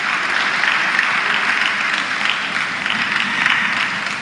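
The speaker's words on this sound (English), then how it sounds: "Let's hear another round of applause for His Excellency," An audience at the North-East Climate Summit in Gombe gives the Deputy Governor of Yobe State a loud, steady round of applause that stays dense throughout.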